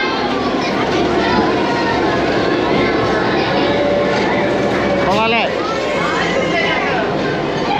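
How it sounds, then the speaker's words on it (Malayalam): A train rumbles steadily nearby with broad mechanical noise, a crowd chattering underneath, and a brief squealing sweep midway. "ട്രെയിൻ വരുന്ന സീനാണ് കാണുന്നത്"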